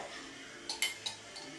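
A utensil clinks against a dish while a raw egg is stirred, a few quick light taps and scrapes close up over quiet room tone.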